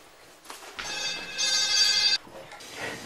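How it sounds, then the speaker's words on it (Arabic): A telephone rings with a bright, bell-like trill in one sustained burst, loud and close, followed by quieter room sound in a Moroccan household scene. "جاوبي في التليفون"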